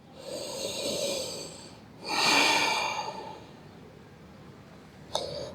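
Two slow, deep breaths taken in a quiet room during a yoga class, a long airy exhale followed by a fuller, louder breath, then a brief soft catch near the end, with no talking.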